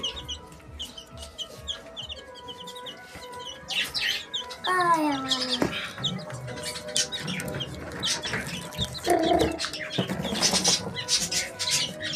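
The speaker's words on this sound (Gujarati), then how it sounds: "ટર્કી જો ટર્કી." A turkey calls among farm birds, with repeated gobbling and clucking phrases and scattered chirps, fairly near and continuous throughout.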